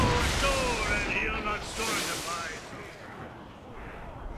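Ship cannons fire in Assassin's Creed Rogue as a naval battle plays out, with loud booming volleys and a rumbling roar that surges and fades under sea-shanty singing and talk.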